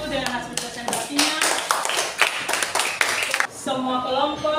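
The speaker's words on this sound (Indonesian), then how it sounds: "Tepuk tangan untuk kelompok 1 dengan hasil presentasinya." A classroom group applauds a student group's presentation, with brisk, uneven hand clapping from several people, loud and close, pausing briefly before resuming.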